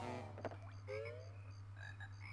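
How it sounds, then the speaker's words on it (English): Robotic frogs croak in the Bubblegloop Swamp level of the Banjo-Kazooie video game, with short chirpy croaks and rising calls repeating over a steady low musical hum. "I like the way they use the frog robots as part of the music"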